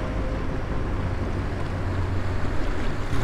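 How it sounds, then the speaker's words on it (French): A strong current rushes through a canal in winter, a close, constant churning wash of water mixed with low wind rumble. "Regardez le courant là. C'est impressionnant. Le courant est tiré à une vitesse."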